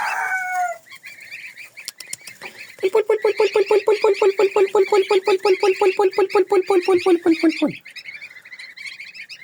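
A rooster kept alongside geese and goslings crows in a long, rapid series of pulsed, stuttering calls, preceded by brief high gosling peeps, fairly close and loud on a quiet farmyard.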